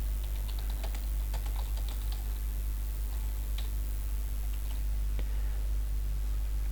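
Steady typing of sample text on a computer keyboard, a run of light, irregular key clicks close by over a constant low hum, with no voices.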